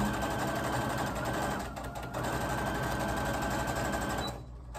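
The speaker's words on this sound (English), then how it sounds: "Then I sew it like this." A sewing machine stitches a fabric face mask, running in a steady, continuous whir close by, with a brief dip midway before it cuts off near the end.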